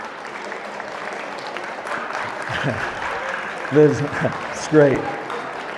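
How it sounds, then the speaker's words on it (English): Audience applause for long-serving and first-time volunteers fills a large room, a steady wash of many hands clapping throughout, with a person speaking briefly over it. "I appreciate you all clapping"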